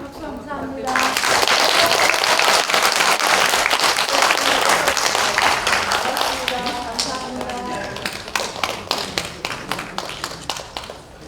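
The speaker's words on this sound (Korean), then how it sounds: "수고하신 우리 손인철 위원장님한테 큰 박수 한번 부탁드립니다" Large audience at a Korean women's conference in the National Assembly hall breaks into loud, dense applause that holds steady, then thins into scattered individual claps toward the end, with a voice heard beneath.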